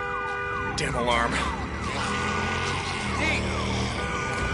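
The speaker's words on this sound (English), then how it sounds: "Damn alarm." An alarm siren wails in the Days Gone video game, a loud, continuous rising and falling electronic tone that sweeps repeatedly under a dense layer of background noise.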